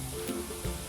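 Homemade barbecue potato chips fry in hot oil, giving a brief, faint, steady sizzle.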